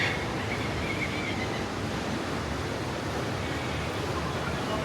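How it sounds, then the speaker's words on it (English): Running water flows in an aquarium display at a wildlife museum, a constant, even rushing wash that fills the space with no voices. "You got running water."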